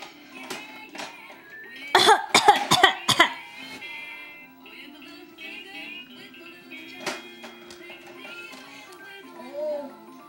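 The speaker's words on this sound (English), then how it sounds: "Oh, she's still coughing." A young girl coughs hard and repeatedly, a dense burst of harsh, close coughs with throat clearing, followed by a few scattered weaker coughs, against quiet background noise with some speech.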